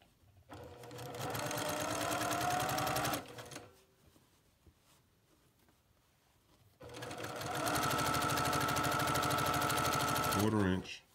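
Brother PQ1500SL sewing machine stitching quilt binding, a fast steady mechanical whir in two sustained runs with a quiet pause between, close and clear.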